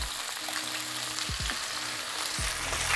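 Chicken wings fry in a pan with a continuous close hiss and crackle of hot oil, and low tonal scraping and shifting sounds come as the pieces are moved and turned, with no voices.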